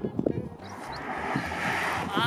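Strong wind rushes and roars steadily across the microphone on the Carretera Austral in Chile, building in the second half, with a voice briefly heard at the start.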